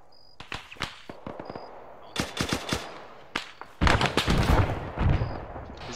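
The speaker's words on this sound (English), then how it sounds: "Is that it shooting those tracers at us?" Bursts of automatic gunfire in Arma 3, a few short volleys early on, then a dense, loud stretch of rapid shots near the end, with no talking.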